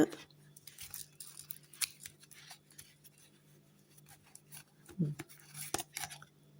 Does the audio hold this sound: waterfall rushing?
no